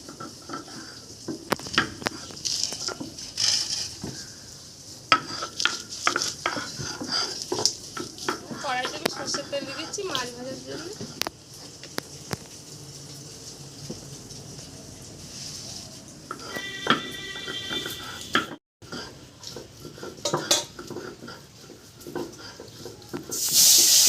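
Fish fries in mustard oil with a continuous crackling sizzle, punctuated by scraping and clinking of utensils against the pan, while a person talks over the cooking.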